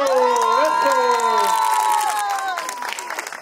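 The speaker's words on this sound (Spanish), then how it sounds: "¡Fuerte el aplauso!" A crowd cheers and shouts loudly, voices overlapping in a sustained roar, with clapping underneath that thins out toward the end.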